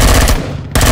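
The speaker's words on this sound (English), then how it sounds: "I didn't even know I had that assault rifle." Assault rifle in Empyrion: Galactic Survival fires rapid automatic bursts, loud and close, with a brief break in the middle before the shots resume.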